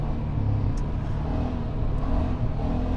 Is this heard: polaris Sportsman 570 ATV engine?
yes